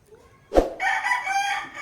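A six-month-old breeding rooster lets out one loud, close crow after a brief thump.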